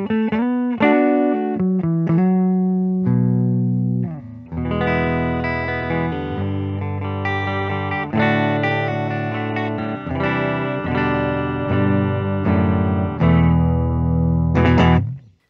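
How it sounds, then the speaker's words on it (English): A 2021 Epiphone Joe Bonamassa Lazarus Les Paul electric guitar on its neck pickup plays loud sustained chords and single notes with a deep, warm tone, phrases separated by brief pauses, with no voices. "Let's go ahead and run through the tones of Lazarus here. Starting with that neck pickup, very deep sounding."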